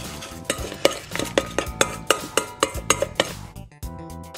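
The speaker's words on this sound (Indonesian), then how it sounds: "Pakai sendok dulu, aduk." A spoon stirs a dalgona coffee mix of sugar and hot water in a cup, a rapid series of bright clinking scrapes against the sides, loud and close, with no voices.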